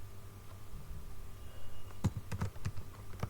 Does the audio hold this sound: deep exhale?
no